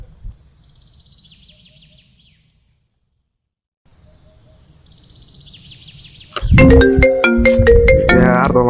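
A phone ringtone bursts in loud and sustained, a bright repeating electronic melody that follows several seconds of near silence broken only by faint chirps and low background hum.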